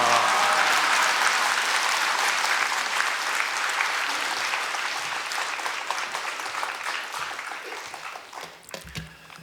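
A church congregation at a revival service claps to welcome the pastor, dense, loud applause from many hands that slowly thins and fades over several seconds, with scattered louder claps near the end.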